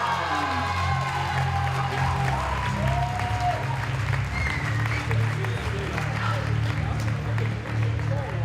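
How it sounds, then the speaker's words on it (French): A graduating class at a diploma ceremony applauds their president, a continuous wash of clapping with scattered cheers and whoops over a low steady hum, voices murmuring underneath. "on va voir s'ils ont encore de la voix pour applaudir Fabien Carmucci"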